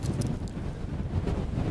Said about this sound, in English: It's windy as hell. It is windy.